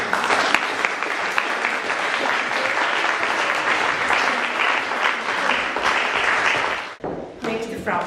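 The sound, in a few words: audience applause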